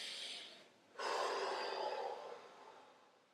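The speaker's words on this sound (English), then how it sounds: "So breathe." Slow, deep breathing during a restorative yoga session: a soft, airy inhale followed by a longer, louder exhale, close and unaccompanied by speech.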